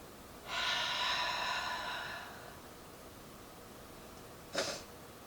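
A single long, deep breath during a plus-size yoga session rushes out clearly and close, followed a few seconds later by a short, sharp sniff-like intake.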